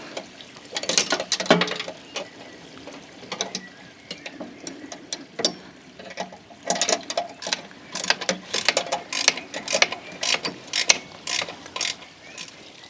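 A spanner tightens bolts on a Cobra Fortis 17E cordless lawnmower handle, giving quick clustered ratcheting clicks and metallic ticks in irregular bursts, close and fairly quiet, with no talk.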